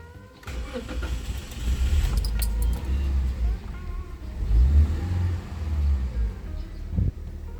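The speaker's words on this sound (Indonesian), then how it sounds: "Kunci kontak on, kita starter." Car engine cranked and started after a tune-up with new spark plugs, catching quickly and then settling into a loud, rumbling idle with slight revving swells, with a voice speaking over it at times.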